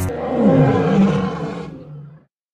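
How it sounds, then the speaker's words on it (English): A lion roars loudly and close, one sustained growling roar swelling for about two seconds, then cutting off into silence. "L is for lion, lion."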